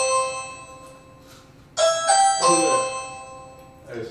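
A doorbell chimes twice in close succession, bright and fairly loud, with faint room noise before and a softer tone starting near the end.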